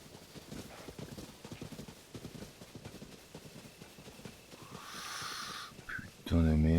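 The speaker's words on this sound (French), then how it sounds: "On est en mode chasse aux chevaux." Horses galloping in Zelda: Tears of the Kingdom, a steady run of hoof clip-clops under near-continuous talk, followed by a brighter rushing game effect and a loud burst at the end.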